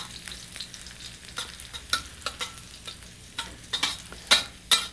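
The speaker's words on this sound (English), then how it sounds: "This method of sautéing spices in a little bit of oil is also very effective in extracting their beautiful flavours." Green chili slices sautéing in oil, with a soft sizzle under irregular stirring scrapes and several sharper spatula clicks against the pan.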